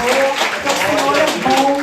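Church congregation at a women's service clapping in praise, a lively wash of many hands under singing or raised voices, fairly loud and continuous.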